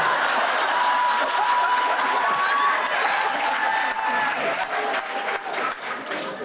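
Audience clapping and laughing at a Battlestar Galactica reunion panel during a TV festival, a continuous dense crowd murmur with scattered applause, while voices talk over the noise.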